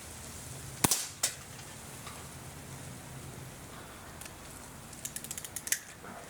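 A Feinwerkbau 65 clone, the SS2 air pistol, fires a single sharp crack near the start, with a second quieter snap just after, then a few faint clicks toward the end over low room hiss.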